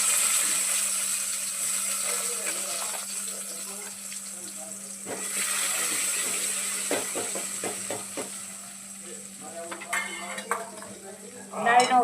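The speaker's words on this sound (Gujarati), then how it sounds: "દાળનો વઘાર. રાઈ," Dal is tempered in a home kitchen: mustard seeds, cumin, chili powder and tomato are added to hot oil, giving a soft sizzle with clinks and scrapes of a pan and spoon. Quiet voices can be heard in the background.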